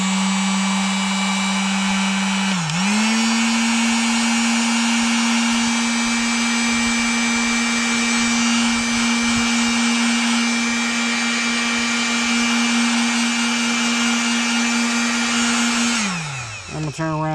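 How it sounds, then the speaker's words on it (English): Heat gun heating shrink tubing on an ignition coil connector, a loud steady whining blower tone that dips briefly early on, then runs evenly before spinning down at the end. "and I'm going to hit it with a little bit of heat."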